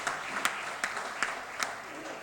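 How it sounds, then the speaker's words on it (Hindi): Audience applause at a Hindi comic poetry recital, a steady wash of clapping with a few sharper claps standing out, fairly faint and continuous throughout. "एक बार मिलकर तालियां बजाएं।"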